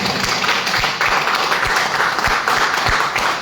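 An audience at a stage event claps in welcome, producing dense, loud applause throughout with sharp individual claps standing out.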